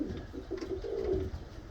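A racing pigeon coos softly in a low, rolling murmur, faint and close, with no other sounds.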